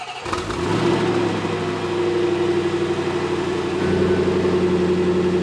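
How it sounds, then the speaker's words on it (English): A Range Rover SVR engine fires up and settles into a loud, steady rumble with a deep throaty tone, swelling slightly louder near the end. "this is the start up of the Range Rover SVR"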